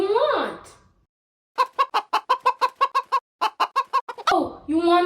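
A cartoon bird clucks like a chicken in a quick series of about fifteen sharp, evenly spaced clucks, with brief vocal sounds just before and after.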